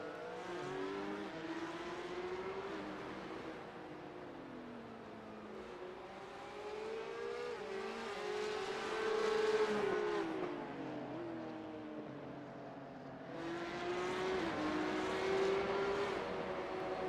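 Porsche Cup race cars lapping the Nurburgring in a sim race, high-pitched engines whining and shifting as several cars pass, swelling louder and fading in waves.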